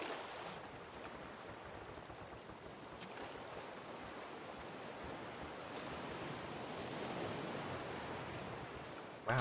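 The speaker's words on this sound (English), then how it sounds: "just listen to the soothing sound of the water" Steady rushing water like surf or waves, a continuous broadband wash with gusts of wind noise, loud and unbroken throughout with no voices.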